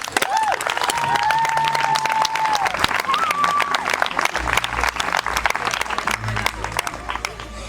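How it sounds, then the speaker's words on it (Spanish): An audience gives loud, continuous applause at a live singing event, crowd clapping blended with voices and a sustained sung or hummed tone running over it. "forte aplauso"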